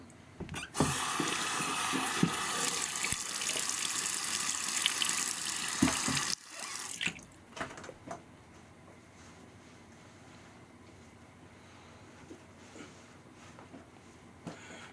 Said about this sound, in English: Right, let me rinse.